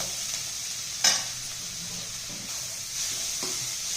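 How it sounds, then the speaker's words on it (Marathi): Grated carrot sautéing in ghee in a pan, with a soft, steady sizzle and a few sharp scrapes and clinks of a spoon stirring, close and fairly quiet, no talking. "तुपामध्ये हा खिस अगदी 2 मिनिटं चांगला परतून घ्यायचा आहे"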